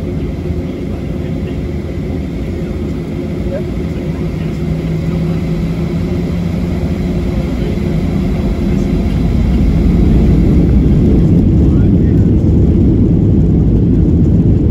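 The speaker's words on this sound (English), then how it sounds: "Very smooth takeoff today." Southwest airliner engines during takeoff from Burbank bound for Sacramento, a loud steady cabin roar with a low rumble that swells slightly as the climb continues, no voices.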